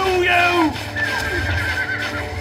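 A horse neighs loudly up close in the strategy game Stronghold Crusader, a shrill descending whinny followed by a softer one, with clip-clop hooves and a voice speaking over it.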